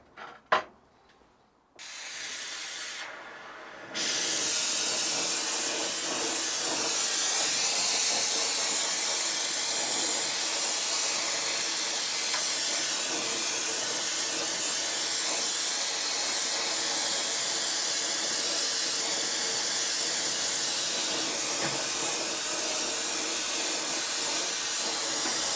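Propane torch burning steadily while heating fusible plugs before tinning their threads, a loud continuous roaring hiss that starts after a few brief bursts and holds for the rest of the time.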